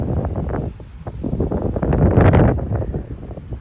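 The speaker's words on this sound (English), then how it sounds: "these are like 35-mile-an-hour gusts. That's the maximum gust." Strong thunderstorm wind gusts buffet a backyard tree, producing rough, surging roar and leaf rustle that swells louder toward the middle before easing, close and unsteady.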